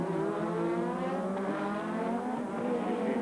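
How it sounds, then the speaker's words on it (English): Formula 1 race cars at the 1987 Monaco Grand Prix, a Ferrari among them, scream past on the street circuit. Engine whine rises and falls faintly in the distance, with no voices. "Prost all over the back of the Ferrari gearbox."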